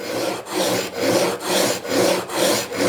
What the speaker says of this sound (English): Purely I'm just trying to get a bit of a fresh grind, or just double check how my grind is on the back of that blade. So backwards and forwards.